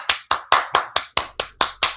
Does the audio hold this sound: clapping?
yes